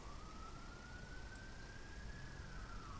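An emergency vehicle siren wails outside, faint and distant, one long slowly rising and falling tone over a steady low rumble of traffic.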